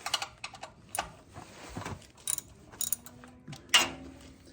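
Socket wrench with a 14 mm socket and extension working the oil drain plug of a 2023 Toyota Tacoma TRD Off Road, irregular metallic clicks and ratcheting bursts, close, with sharper clanks toward the end.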